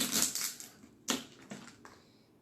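Sharp cracking and crunching of a snow crab shell, with a few distinct snaps spaced apart, close and fairly loud, no talking.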